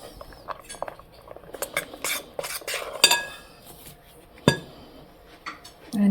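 A utensil stirs flour into mashed banana batter for banana bread, with metallic clinks against a bowl and soft scraping strokes in an irregular rhythm, close and moderately loud.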